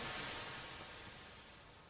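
A Moog synthesizer produces white noise: a steady, full-band hiss with no pitch or rhythm, heard alone and tapering slightly in loudness over about two seconds.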